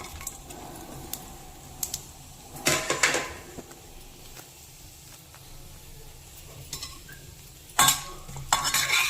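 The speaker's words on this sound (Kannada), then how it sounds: "ಇದು ಹೋಲ್ ಗರಂ ಮಸಾಲ ಫುಲ್ಲು ಆಯಿಲ್ಗೆ ಹಾಕ್ತಾಯಿದ್ದೀನಿ" Whole garam masala spices go into hot oil and a utensil stirs them in a pan. A soft sizzle runs underneath, with two loud scraping, clattering bursts and lighter taps.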